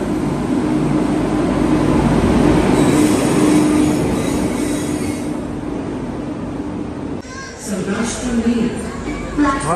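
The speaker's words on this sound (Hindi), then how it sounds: "निज़ामुद्दीन गरीब रथ एक्सप्रेस 12909 प्लेटफॉर्म नंबर 3" Garib Rath Express standing at a railway platform, with a loud continuous rumble and a faint high squeal, then a drop in level near the end as a voice speaks over the station noise.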